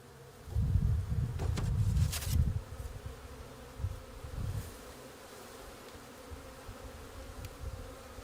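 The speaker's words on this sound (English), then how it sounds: "This is when it's normal to have a few bees come out." Close, loud buzzing of honeybees coming out of a bee package swells for a couple of seconds, then fades into softer intermittent buzzing against a quiet background.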